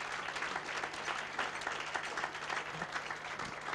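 Steady audience applause fills a New Zealand variety artists' award ceremony, a dense, even wash of clapping hands sustained throughout without pause.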